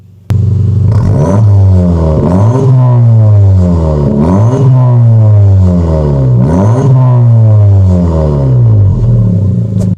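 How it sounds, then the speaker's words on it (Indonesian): A Honda Civic RS hatchback engine revs repeatedly through a loud HKS aftermarket exhaust, rising and falling in a steady cycle of about six throttle blips, close and continuous. "bagian knalpot dia pakai HKS. Suaranya lumayan enak."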